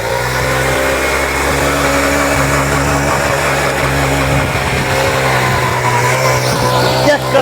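A 4 HP Chetak power tiller engine running in a field, a loud, steady, close mechanical drone with a constant low rumble that holds throughout with little change in pitch.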